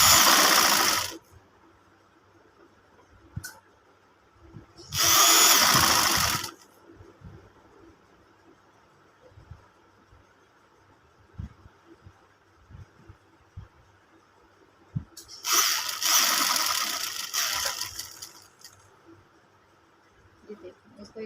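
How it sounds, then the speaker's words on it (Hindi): A sewing machine runs three short bursts while stitching a round neckline, with a nearby mechanical whirr between quiet stretches of light handling noise. "तो हमने ऐसे सिलाई लगाते जाना है।"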